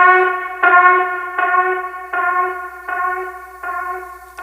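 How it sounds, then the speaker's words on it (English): A bright tonal sample on an MPC repeats in six regular tap-delay echoes about three quarters of a second apart, each ringing out with a reverberant tail. "I can have this baked once with a tap delay, and then with the effect with the reverb"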